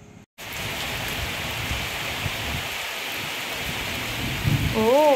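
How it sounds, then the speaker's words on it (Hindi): Heavy rain pours down in a sudden downpour with thunder, a loud dense roar after a brief silent start, swelling slightly near the end with a faint voice-like tone over it. "अचानक से बहुत ज़्यादा बारिश होने लगी और एकदम बादल एकदम साउंड के साथ में गरज के साथ में"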